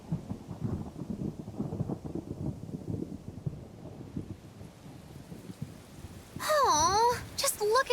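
Thunderstorm and rain in the video game Tales of Berseria, a low rolling rumble running under game dialogue and music, ending in a louder burst of tonal game sounds.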